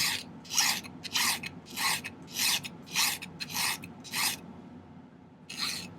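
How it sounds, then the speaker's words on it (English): A metal file rasps across the end of silver wire to flatten it, a series of about ten short, close scraping strokes in an even rhythm, with a pause and then one last stroke. "file one end flat"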